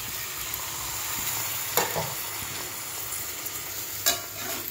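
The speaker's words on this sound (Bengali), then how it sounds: "একটু ভাজা ভাজা করবো।" Rice frying in a pan with turmeric, ginger, cumin and chilli powder and vegetables, a steady close sizzle with two sharp scraping stirs of the spoon.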